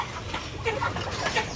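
Native country chickens cluck at a poultry shop on a rainy day, a cluster of soft, overlapping calls close by over a steady hissing background.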